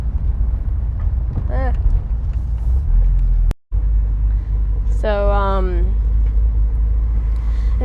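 A Porsche 944 drives on the road with a steady low engine and road rumble heard from inside the car, broken by a brief dropout, while people talk over it.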